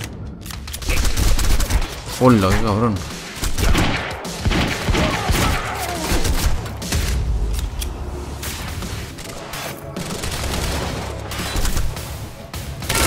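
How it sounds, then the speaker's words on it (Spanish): Gunfire in the video game Quantum Break crackles in dense, repeated bursts of shots and thuds, loud and near, while someone talks excitedly over the shooting. "Estoy disparando al aire."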